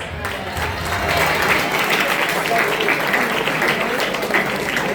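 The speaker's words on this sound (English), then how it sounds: "Say a big thank you and a good round of applause." Students applauding at a career guidance programme in a school hall: a broad, sustained burst of many hands clapping, close and loud, holding steady for several seconds with crowd noise mixed in.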